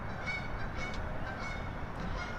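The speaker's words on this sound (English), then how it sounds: "I don't know what it is with birds in my videos, but they just fly by honking." Geese honk outdoors as they fly past, their calls faint and distant over a steady broadband background rumble, several short honks spread across the moment.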